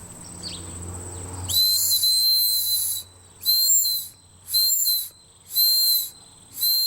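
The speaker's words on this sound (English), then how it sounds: "All right, here is the whistle." A shrill, high whistle built into a Roxon S803 multitool, blown loudly up close: one long blast followed by four shorter evenly spaced blasts.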